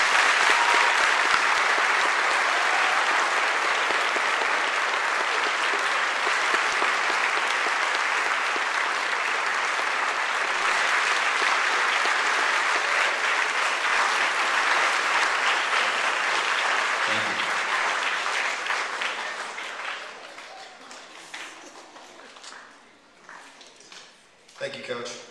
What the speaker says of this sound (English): give a huge round of applause for those current active military and